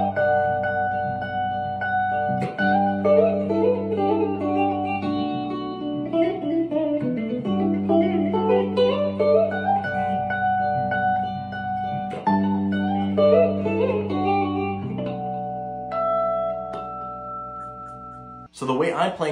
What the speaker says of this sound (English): So now we're gonna work on the pedal steel sounding stuff that sounds like this.